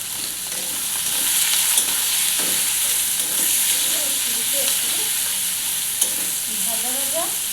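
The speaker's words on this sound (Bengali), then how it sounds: "লাল লাল করে একটু ভেজে নেব।" Chopped onions frying in oil in a wok, a loud, continuous sizzle with scraping stir strokes running through it and a voice speaking briefly toward the end.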